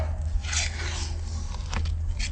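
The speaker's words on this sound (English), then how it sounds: "we're gonna take this sander, this orbital sander, and sand down the edges because they're a little rough" An orbital sander smooths the rough cut edges of a plexiglass piece, giving a close, continuous gritty rubbing and scraping with a low motor hum and short surges of harsher abrasion.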